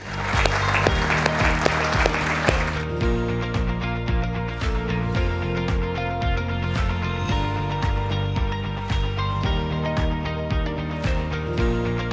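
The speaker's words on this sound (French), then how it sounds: "moi je propose qu'on applaudisse les étudiants et l'équipe pédagogique" Audience applause for students and teaching staff at a university programme's tenth-anniversary evening: dense clapping for the first few seconds, then loud rhythmic music with a steady beat takes over.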